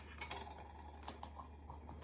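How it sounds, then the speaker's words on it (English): A spoon scrapes cocoa powder off over a container while a cake is made in a cup, giving a few light, faint scrapes and small metallic clinks with no talking. "She's going to scoop it and then scrape it off over the container."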